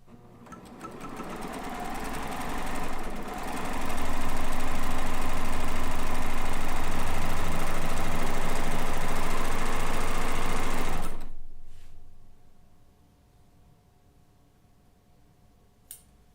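Sewing machine stitching a border onto a Kaffe layer cake quilt, a loud sustained motor whir that builds, runs steadily for several seconds and stops abruptly, leaving a quiet room with one soft click.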